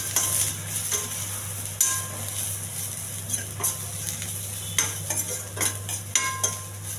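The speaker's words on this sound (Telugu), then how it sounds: "బాగా మాడనివ్వాలండి ఉల్లిపాయ." Onion with green chillies and a pinch of salt frying in a pan, a steady sizzle over a low hum, with intermittent spatula scrapes and clinks as it is stirred.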